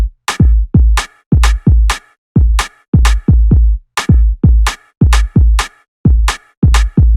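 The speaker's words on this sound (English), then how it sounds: "Make sure to arrange the kick and rim hit in an offbeat swing pattern that goes a little something like this." Kick drum and rim hit played in an offbeat, swung garage groove: punchy low thumps paired with sharp clicky rim strikes, repeating steadily, loud and dry with no other sounds.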